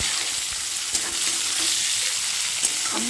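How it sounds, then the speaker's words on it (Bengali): Onions sizzle steadily in hot oil in a pan while being fried for prawn and egg dum biryani, with a loud continuous hiss and occasional stirring clicks, no talking. "চলো পেঁয়াজটা খুব ভালো করে ভেজে নিচ্ছি।"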